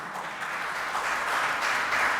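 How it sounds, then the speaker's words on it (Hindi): Audience applause in a lecture hall, dense continuous clapping from many hands, steady and fairly loud with no talking over it. "ताली बजाइए उनके लिए"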